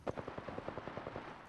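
Rapid automatic gunfire from a first-person shooter video game crackles in a quick, evenly spaced burst of about a dozen sharp shots, fairly faint and close, with a voice heard briefly.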